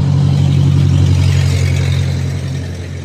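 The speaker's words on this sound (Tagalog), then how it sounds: "Ito yung motor natin." Motorcycle engine running close by, a steady loud mid-pitched drone with slight revving that eases off toward the end, no talk over it.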